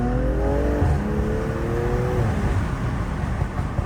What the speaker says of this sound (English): Let me see if I can show y'all these little turbo noises.